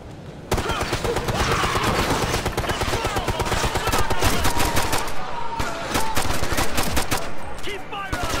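Sustained automatic gunfire in Ghost Recon Future Soldier, dense overlapping machine-gun bursts that run almost without pause for several seconds, loud and close with soldiers shouting over it.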